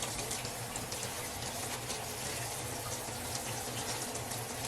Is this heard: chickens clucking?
no